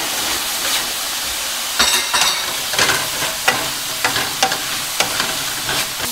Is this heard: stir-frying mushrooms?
yes